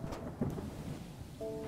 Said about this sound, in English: Okay, the storm is coming.